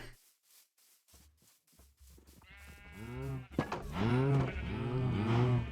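Cows mooing in the video game Minecraft, a few faint clicks first, then two or three drawn-out lowing calls that grow louder and closer.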